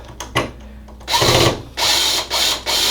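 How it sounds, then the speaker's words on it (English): A cordless drill drives 6-32 fine-thread machine screws while a Rinnai exterior tankless water heater is being wired. The motor whirs in several short, close bursts with brief pauses between them, starting and stopping slowly, with no talking. "be patient, especially if you're using a drill"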